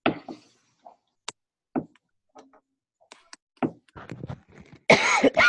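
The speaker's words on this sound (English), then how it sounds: "So sorry for my cough." Scattered soft thumps and clicks in a quiet room during a Zoom call, then a loud, harsh cough bursts out near the end.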